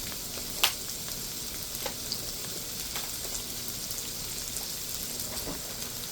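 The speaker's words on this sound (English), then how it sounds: "I am going to go ahead and dump some mushrooms in here" Mushrooms are dumped into a frying pan and sizzle with a steady, quiet crackle and a few sharp pops, close by and without talk.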